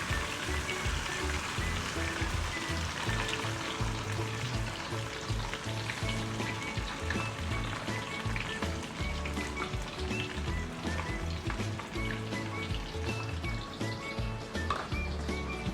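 Dried anchovies (ikan bilis) deep frying in oil above 170 degrees, a dense steady crackling sizzle with constant bubbling, close and continuous with no talk.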